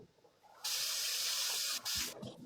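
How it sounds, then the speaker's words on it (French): Water sprays in a strong, steady hiss for about a second, then cuts off briefly and resumes more weakly, like a small tap running at a sink. "C'est pour que l'eau puisse couler comme un petit robinet"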